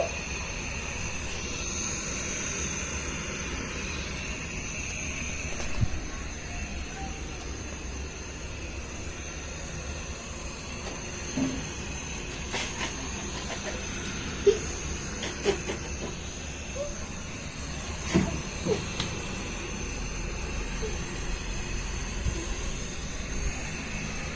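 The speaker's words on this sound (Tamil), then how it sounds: "தண்ணி கொதிச்சிட்டு இருக்கு" Water boiling in a cooking pot, a steady rolling hiss, continuous and close, with faint bubbling pops and occasional small clinks rising above the bed of noise.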